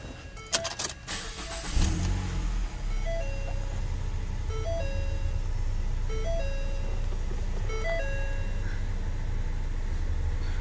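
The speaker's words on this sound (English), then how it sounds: "Now I'll go ahead and start it up. Pop the hood and let you listen to it run." A 2010 Ford Fusion idles steadily with its hood open after a brief startup burst, a close, continuous engine hum with a repeating electronic chime pattern sounding over it.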